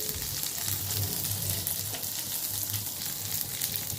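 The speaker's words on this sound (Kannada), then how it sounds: "ಸೊ ಇದನ್ನು ಸ್ವಲ್ಪ ಫ್ರೈ ಮಾಡ್ತೀನಿ ನಾನು" Pepper, coriander and curry leaves frying in oil on a low flame for tomato chutney, a soft steady sizzle with occasional light stirring, close and fairly quiet with no voices.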